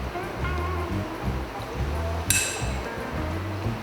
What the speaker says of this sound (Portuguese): Você pode dar uma mexidinha até ele dissolver totalmente.